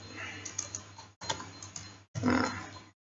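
Fingers tap steadily on a computer keyboard in three bursts separated by short gaps, a close, soft clatter of keystrokes with no talking.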